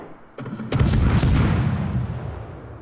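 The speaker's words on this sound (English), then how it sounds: "Got him spotted, so I might as well shoot at him." Naval guns fire from a Klas Horn Pan-European tier-4 destroyer in World of Warships, a sharp shot followed by a heavy booming salvo with a long rumbling tail, loud and close.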